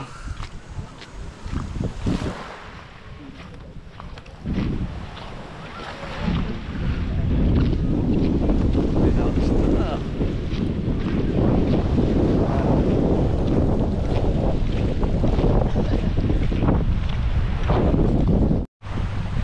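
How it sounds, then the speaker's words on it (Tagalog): Steady wind buffeting the microphone with the rush of waves along an island beach shore in Romblon, Philippines, loud and continuous, with a brief dropout near the end. "yung hangin papunta rito, yung alon pa"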